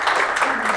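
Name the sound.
audience applause for a presenter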